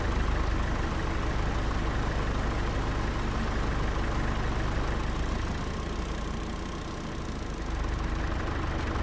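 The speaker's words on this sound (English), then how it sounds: "All the other tractors aren't this loud. It's just this specific mod." A loud modded tractor engine in a farming video game idles steadily, a dense, unbroken rumbling drone that dips slightly for a moment near the end.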